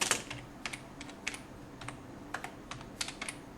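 HTML paragraph text is typed on a computer keyboard in short clusters of crisp keystrokes with small pauses between them. The sound is close and quiet, with nothing else heard.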